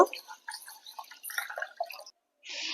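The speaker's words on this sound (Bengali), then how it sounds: "চালটাকে আমি প্রথমে ভালো করে ধুয়ে নেব" About a hundred grams of basmati rice is washed in water, giving close, intermittent drips and splashes with a brief pause before a final wet swish; no one speaks.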